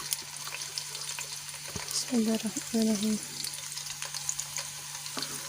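Finely chopped onions, two of them, hit about one and a half cups of hot oil and fry with a steady close sizzle, stirred now and then with a few utensil clinks, while someone talks lightly over the cooking.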